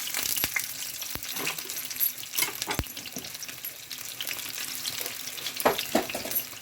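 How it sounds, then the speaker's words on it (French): Oil heats in a frying pan, crackling and sizzling steadily up close, broken by several sharp metallic clinks and taps scattered through the stretch, with no talking. "Donc là, mon huile, elle chauffe."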